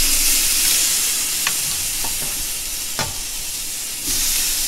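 Tri-tip steak sears on a grill turned up high, giving a steady loud sizzle and hiss with a few sharp crackles and pops throughout.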